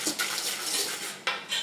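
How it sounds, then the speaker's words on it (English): Egg yolks, sugar and champagne whisked in a bowl into a sabayon, giving rapid metallic clinks and scrapes against the bowl, close and fairly loud. "we're going to beat this now until it forms a sabayon"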